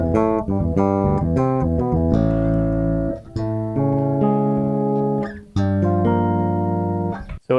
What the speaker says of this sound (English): Boss's new overtone effect block, which in fact I will play for you.